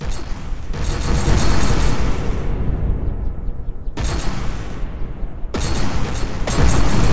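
Cannons on a warship in the video game From the Depths keep booming and firing in rapid, heavy volleys, with loud dense blasts nearly continuous across the stretch and a brief lull between bursts.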